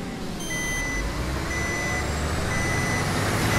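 Repeated reversing beeps at a race start in the Wreckfest demolition derby game, a steady electronic tone pulsing over a constant low engine rumble, loud and close throughout.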